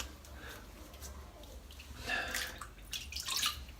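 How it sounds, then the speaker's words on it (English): Hands dip and splash in a basin of water during a wet shave, soft sloshing with a couple of brighter splashy bursts near the end, close by and without talking. "Dip my hands in the water."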